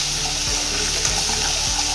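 Nigella seeds and a bay leaf temper in hot oil for a Bengali doi potol dish, giving a steady, even hiss under faint low thumps throughout.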